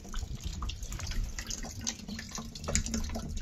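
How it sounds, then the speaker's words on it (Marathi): Water trickles and drips from the outlet of a freshly watered vermicompost bed, a continuous close patter of small splashes with no talking. "तर आपण ह्याचं पाणी जे आहे आउटलेट ते इथं असं पडत आहे या ठिकाणी"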